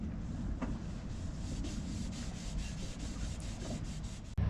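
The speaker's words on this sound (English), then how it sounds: "Nancy's finished sanding this piece of wood that covers our stove" Sandpaper rubs back and forth over a wooden board that covers a kitchen stove, a continuous gritty scraping with faint repeated strokes, close and steady throughout, no voices.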